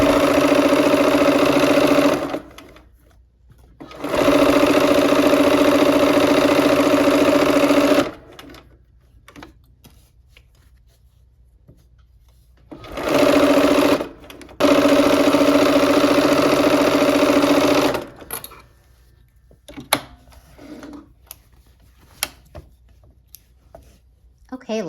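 A sewing machine stitches the last seam of a quilt block in two loud bursts of fast, steady whirring, each several seconds long, with quiet pauses and faint handling noises between.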